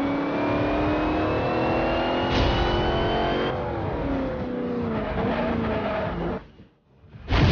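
Toyota Supra engine in the racing game Forza Horizon 2, revving loudly and rising in pitch as it accelerates, then a brief drop before the engine roars again.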